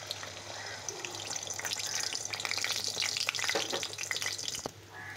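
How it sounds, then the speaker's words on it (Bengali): Beaten egg with garlic paste and garam masala frying in oil, a close sizzle that swells and then fades near the end, with faint stirring and no talk. "এখন আমি ডিমটা ভেজে নেব।"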